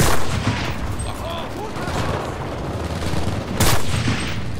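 Dense gunfire from a WW2 battle in the video game Enlisted, with continuous overlapping shots and bursts and a heavier blast near the end, loud and sustained, with a player's voice partly mixed in.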